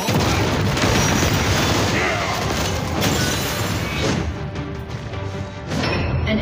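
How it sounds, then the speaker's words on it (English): A turret being destroyed in the Marvel Super War mobile game, a War Machine match in the bottom lane: dense, continuous booming crashes and explosive impacts, loud and busy throughout, with a short dip before the din returns. "Turret has been destroyed."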